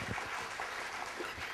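At a school annual day in an auditorium, a crowd of parents gives sustained applause, a thick, even roar of clapping that holds steady and fills the hall without a break.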